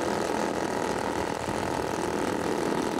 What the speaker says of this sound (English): Engines are running and Steve directs out the first aircraft.